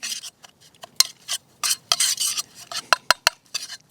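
Oil being worked into a dry bannock dough mixture until crumbly, in a camp cooking setup with a Firebox stove and Swedish M40 mess kit: scraping, stirring and clinking of a utensil against a metal pot in irregular close bursts, no talk.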